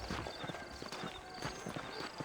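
Horse hooves clip-clop at a steady trotting rhythm in the Western video game Red Dead Redemption, the clattering beats close and continuous over a busy background.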